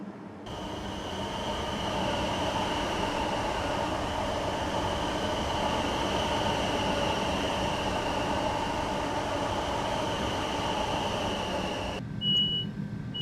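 Class 450 electric multiple unit train in Train Simulator 2017 departing Aldershot, a steady close rumble of motor and rolling wheels with a constant hum holding the whole way, then cutting off abruptly near the end, with no talk.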